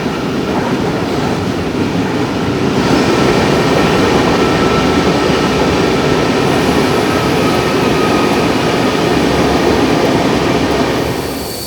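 Loud, steady rumble of the 12284 Nizamuddin–Ernakulam Duronto Express running through the Kulshekara tunnel near Mangalore Junction, heard from inside a sleeper class coach, with dense roaring rail noise and a faint squeal throughout.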